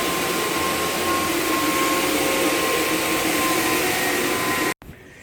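Motorized floor scrubber running steadily with a loud, constant whirring drone while cleaning a catio floor, then cutting off abruptly near the end.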